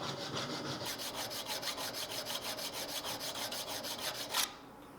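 A hand file rasps along a mosaic Damascus steel bowie knife in fast, even back-and-forth strokes. The scraping is close and steady and cuts off abruptly near the end.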